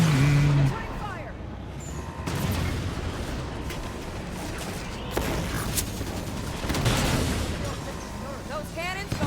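Booming cannon blasts and heavy gunfire in a chaotic Halo 5: Guardians battle, several loud bursts with rumbling explosions and clatter between them.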